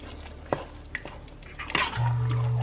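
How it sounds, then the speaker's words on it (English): A spoon stirs sauce into spaghetti in a pot off the heat, making soft wet squelches and a few sharp clinks against the pot, close and quiet, with a low hum near the end. "Okay, so I'm going to stir this in."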